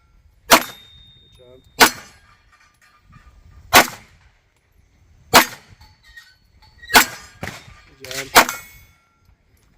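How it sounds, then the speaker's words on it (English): CZ P10 F pistol fired at steel targets, seven sharp, loud shots spaced one to two seconds apart, each followed by a faint ring of the steel, with brief talk near the end. "Nice shooting."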